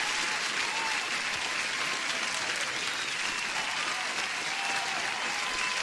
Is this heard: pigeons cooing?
no